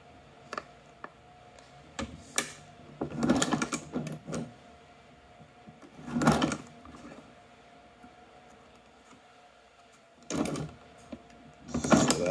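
A China shoe patcher sewing machine stitches through thick 24oz leather for a knife sheath, with short mechanical bursts of cranking and stitching broken by quiet pauses, close and fairly loud.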